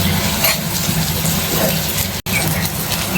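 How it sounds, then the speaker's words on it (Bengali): Water is poured into a pan of fried pumpkin curry in a village kitchen, making a loud, continuous gushing splash with a brief break near the end. "আমি এবার এটার মধ্যে জল দিয়ে দেবো।"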